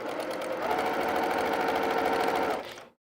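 A sewing machine runs steadily, stitching a heavy jelly roll quilt top with a quarter-inch seam, its fast even whir close and loud for nearly three seconds before stopping abruptly, with no talking over it.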